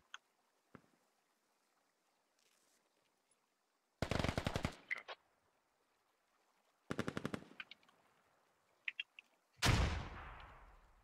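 Squad video game gunfire: bursts of rapid automatic shots, several short volleys separated by quiet gaps, plus a heavier blast near the end, fairly close and without talk.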